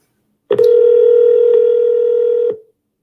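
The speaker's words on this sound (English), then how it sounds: "Let's see if we can get Leilani on the phone here" Telephone dial tone sounding as a call is placed on air, a single steady loud tone running alone for about two seconds before cutting off.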